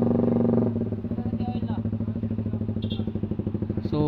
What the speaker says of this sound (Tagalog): Sasabay din pala sa magandang tunog ang Winner X kapag naka pipe at naka ECU.